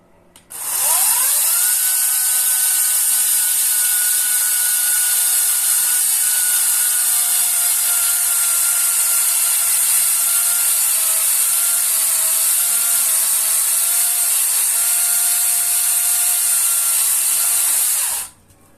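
A loud, steady motorized whine of an Ozito chainsaw cutting 250 mm logs on a log stand runs without a break for about seventeen seconds, then cuts off abruptly.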